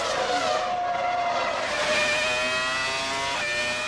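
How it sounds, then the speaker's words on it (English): Formula 1 cars from the 1998 season race off the start, their high-pitched engines screaming continuously, with pitch sweeps as several cars accelerate and pass close by, loud and unbroken. "Irvine and Villeneuve are getting a good start"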